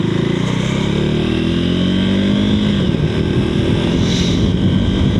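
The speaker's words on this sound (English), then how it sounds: "I gotta slam you into gear at high RPM" A vehicle engine roars loudly and continuously at high revs, its pitch sliding downward as it is forced into gear, with steady mechanical drone throughout.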